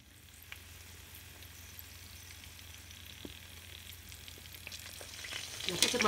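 Danish pork sausages seasoned with pepper and spices fry gently in a pan, giving a soft, quiet sizzle with sparse pops that grows louder and busier toward the end, heard close up without talk.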